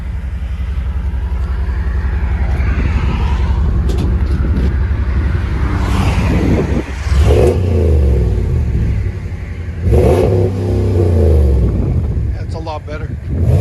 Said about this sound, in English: 40 series FLOWMASTER still got the resonators on it and everything